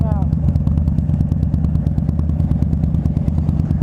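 A Harley-Davidson Dyna Street Bob motorcycle engine runs steadily while riding through Ocean Beach, a low rumbling drone with rattly clatter, continuous and close, with a voice talking over it.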